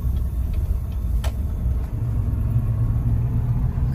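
Car driving on a road and turning left at a T-intersection, a steady low engine and road rumble heard from inside, with a faint click partway through and no one talking.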